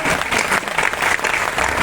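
An audience at a Hindi poetry recital breaks into brief, dense applause. Many hands clap together as a loud, continuous wash of sound.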